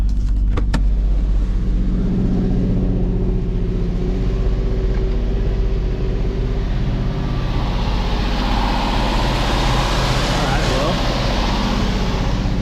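A car engine revs hard and holds at full RPM after a throttle body problem is fixed, a loud steady roar with broadband rush rising midway, a voice speaking briefly over it.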